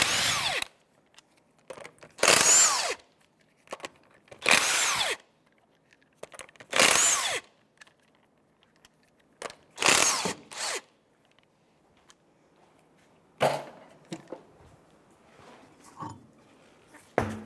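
Power tool driving a 19 mm socket on a wheel of a 2006-2013 Chevrolet Impala, heard as about five loud, sharp bursts separated by short pauses, then a few quieter, shorter bursts.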